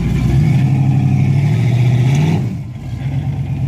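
An off-road rock crawler engine revs hard on the throttle at a rock competition course at Rausch Creek off-road park, a loud close roar holding for about two seconds before dropping back toward idle.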